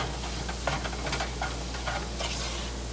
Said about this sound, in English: We want to get all that flour all mixed in with the pork and the oil.